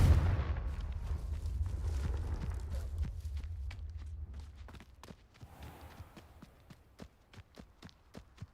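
A Confringo blasting spell explodes in Hogwarts Legacy, a loud low boom fading into rumbling debris, followed by a long run of sharp, scattered cracks and impacts.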